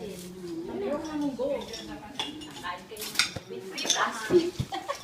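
A plastic container is washed along with dishes, with clinking cutlery, knocking pots and splashing water close by while a person talks over the clatter.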